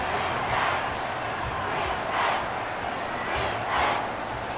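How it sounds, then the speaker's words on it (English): Stadium crowd roar from a Madden 24 football game, Detroit Lions versus Carolina Panthers, a steady dense wash of cheering that swells and surges a few times, with faint commentary talk underneath. "this crowd is making an impact right now"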